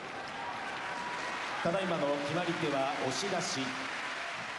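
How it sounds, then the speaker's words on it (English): A large sumo arena crowd applauds a bout win in a dense, steady wash of clapping and cheering, while a voice speaks over it partway through. "A huge round of applause for Tamawashi"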